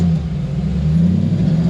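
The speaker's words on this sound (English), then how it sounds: "It's an off-road car." An off-road car with an LS engine at Johnson Valley's off-highway area revs steadily, giving a loud, close, continuous low rumble that holds throughout with no talk over it.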